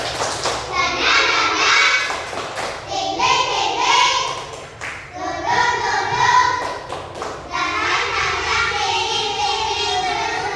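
Classroom of students performing a rhythmic spirit clap in patterned bursts of hand claps and taps, mixed with children's voices chanting along and a teacher speaking between rounds.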